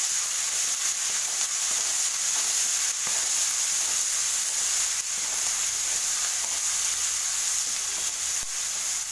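Onions with salt sizzle steadily as they fry in a pan for a papaya thoran, a continuous bright hiss broken by occasional scraping stirs, close and alone with no talk.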